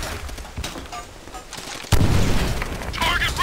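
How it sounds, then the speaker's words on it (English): Grenade explosions and gunfire in the video game Call of Duty World at War, scattered pops and shots building to a heavy booming blast that rumbles on, loud, with voices talking over it. "It's not safe here, they keep throwing grenades at us."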